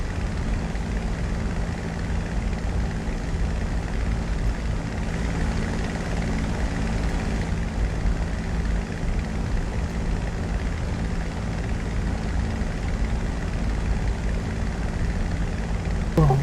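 Aircraft engines in a flight simulator game give a constant, loud droning hum with a low propeller-like throb, unbroken and steady with no talk.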